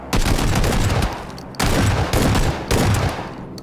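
Shotgun blasts in the PUBG battle royale game, three or four loud booming shots in quick succession, each with a brief decaying tail, close and without talk.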